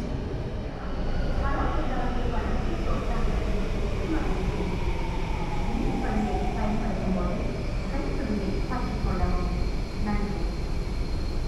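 Singapore metro train running through a station, a steady rumble and hum with brief tonal squeals over several seconds, while people talk over it.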